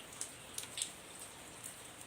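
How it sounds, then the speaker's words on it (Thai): Light rain falling outdoors, a faint patter of scattered drops with a few sharper ticks, steady and quiet with no voices. "ฝนตกแล้วค่ะ"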